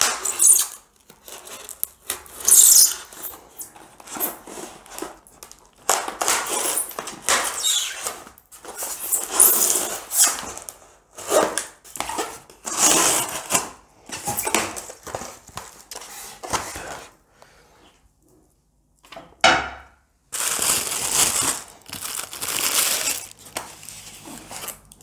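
A cardboard box holding an Iron Studios 1/10 resin Thanos statue is cut open in close, scratchy bursts of slicing and rustling cardboard, broken by short pauses and an occasional sharp tearing swipe.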